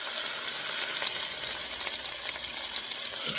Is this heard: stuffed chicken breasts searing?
yes